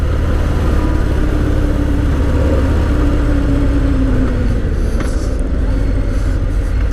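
A Harley-Davidson Fat Bob 114 motorcycle is ridden along the road, giving a constant loud engine drone mixed with rushing wind that holds steady throughout.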